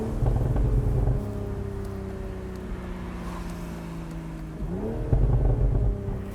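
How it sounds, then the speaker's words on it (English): A 2023 BMW Z4 M40i with the top down, its engine note piped into the cabin: a steady droning hum that falls in pitch, then swells with a louder rev and rumbling pops near the end. "And the pumped in with the backfires"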